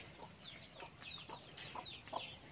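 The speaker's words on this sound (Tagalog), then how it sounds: "Dami niyang manok." Several chickens cluck and squawk nearby in quick, irregular bursts, with sharp rising calls scattered across the clip.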